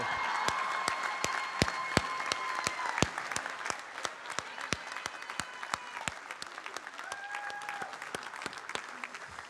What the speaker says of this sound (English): can you give me another round of applause for President Hrabowski?